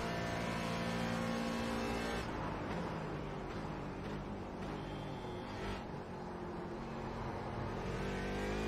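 A race car engine in the iRacing sim holds full throttle in sixth gear at Daytona, giving a constant, dense, high-revving whine with slight pitch shifts and no talking.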